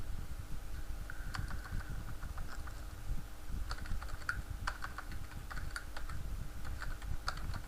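Steady keyboard typing of code in ActionScript 3.0, with scattered sharper key clicks over a constant low background hum, fairly close and continuous with no talking.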